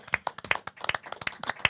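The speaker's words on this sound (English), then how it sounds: "please give former New York City Police Commissioner Ray Kelly a tremendous round of applause" Audience clapping for a former New York City Police Commissioner at a Back The Blue event, sharp individual handclaps from a small, close group in a quick uneven patter, with no voices.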